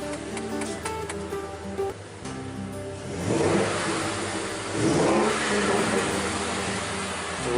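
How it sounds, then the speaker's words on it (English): A 2011 Ford F-150 FX4 pickup truck engine with a Flowmaster exhaust revs up in two strong bursts, the exhaust roaring loudly then settling back to a throaty idle; no voices. "I want to see the difference of what my truck sounds like right now."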